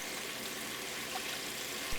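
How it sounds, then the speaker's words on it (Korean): Tap water runs over green garlic being rinsed, a faint, steady, close wash of flowing water. "손질한 풋마늘은 흐르는 물로 씻어주세요."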